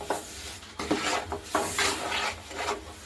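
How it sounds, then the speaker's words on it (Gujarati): Sesame seeds for til chikki are mixed in a pan with a wooden spoon, giving repeated rough rasping, scraping strokes in an uneven rhythm, close and moderately loud with no voices. "આ રીતે બધું જ મિક્સ કરી લઈશું એક જ સરખું"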